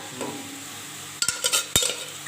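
Stirring and sautéing in a pan while cooking jackfruit kurma, with a steady low sizzle and a few sharp scraping clinks of a utensil against the pan near the end, close by with no talk.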